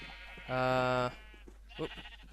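A Minecraft sheep gives one clear, loud bleat, followed by a softer second bleat, with quiet game ambience around them.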